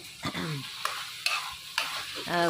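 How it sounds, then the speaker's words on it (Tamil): Tomatoes being sautéed with rock salt in a pan, a short burst of close sizzling broken by several quick scraping stirs of a spoon against the pan. "இதையும் நல்லா கல் உப்பு போட்டு வதக்கிட்டு"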